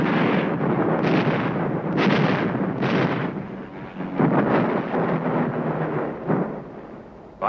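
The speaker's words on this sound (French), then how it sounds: "aidées par l'artillerie mobile." Mobile artillery fire from the Korean War booms in a series of heavy, rumbling blasts, several deep rolling explosions spaced a second or so apart with a muffled, archival quality.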